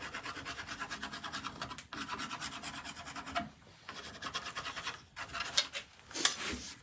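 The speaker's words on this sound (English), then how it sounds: "And then come through with like just metal files you don't want the rasp." A metal file works along a handmade wooden guitar neck with a 50mm nut in steady, close back-and-forth rasping strokes, a rhythmic scraping that pauses briefly twice before the filing resumes with a few sharper, brighter strokes near the end.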